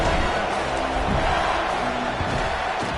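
A football stadium crowd buzzes after a touchdown, a dense, continuous roar of many voices with scattered shouts and cheers, steady and loud throughout with no distinct commentary on top.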